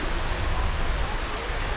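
Light rain falling outdoors as a soft, even hiss of drops, steady and unbroken for the short stretch, with no voices over it.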